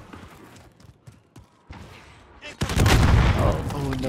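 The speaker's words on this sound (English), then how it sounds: "Fucking shooting rockets at me" Rockets and gunfire in a shooter video game, with several sharp blasts and then a loud, sustained burst of explosive fire close in the mix, mingled with game noise.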